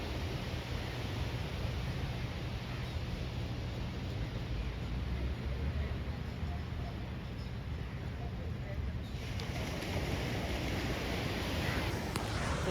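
Waves wash ashore at Versova beach as a steady, broad surf hiss that mixes with wind noise, with speech heard off and on over it.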